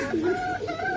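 Pigeons of an old-generation zira-neck strain coo softly and continuously at a bird sale, several low murmuring calls overlapping in a short stretch.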